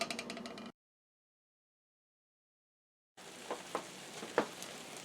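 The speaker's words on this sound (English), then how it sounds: "corned beef in here sizzling pretty good" Corned beef sizzles and fries in a hot, larger frying pan, a steady crackling hiss heard in two stretches separated by a silent gap, with a few sharper pops standing out near the end.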